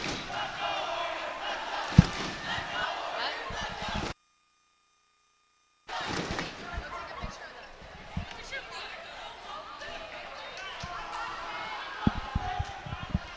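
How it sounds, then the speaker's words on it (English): A high school student section cheering loudly in a gym during a girls volleyball match, a dense crowd roar with thumps and shouts, cutting out briefly before surging again. "our student section is just really going crazy with the cheering right now."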